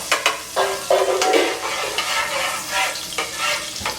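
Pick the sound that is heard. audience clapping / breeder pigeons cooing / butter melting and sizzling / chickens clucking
butter melting and sizzling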